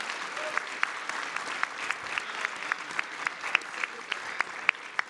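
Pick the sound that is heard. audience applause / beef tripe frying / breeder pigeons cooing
audience applause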